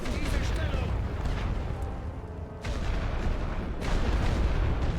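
Heavy artillery fire in The Great War: Western Front rumbles as deep, repeated booms under a continuous battlefield din, fairly quiet overall, while someone speaks over it.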